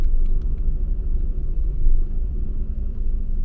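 Low, steady engine rumble inside a Willer Express night bus pulling away from a highway rest stop between Tokyo and Kyoto, continuous and close, with faint clicks over the drone.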